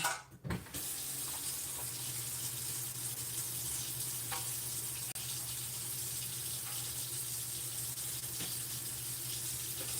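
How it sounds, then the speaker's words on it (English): Tap water runs steadily into a pot for servings of Cream of Wheat in a home kitchen, a continuous close hiss throughout after a brief clatter at the start. "Now I think I need to put a little bit more water in here, because I want it to be enough for 3 servings."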